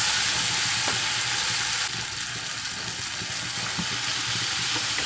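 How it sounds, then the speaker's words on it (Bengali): Raw washed chicken goes into cooked spice masala and sizzles loudly in the pan. The hiss is dense and steady and eases slightly after the first couple of seconds, with no voices. "পরিষ্কার করে ধুয়ে রাখা চিকেন দিয়ে দিচ্ছি।"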